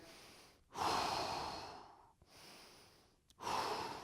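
Deep, steady breaths drawn in and let out during a yoga stretch in an upper-body workout, heard close and alone as about three long, airy inhale-exhale cycles.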